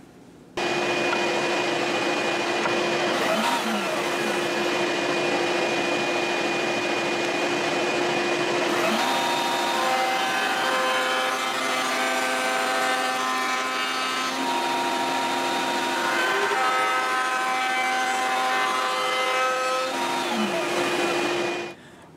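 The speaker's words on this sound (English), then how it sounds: "And remember, the center of the router bit is not the end of the cut." A handheld router shapes a wooden guitar neck, giving a steady loud high-pitched whine that runs for about twenty seconds and shifts in pitch as the bit bites into the wood, with no talking.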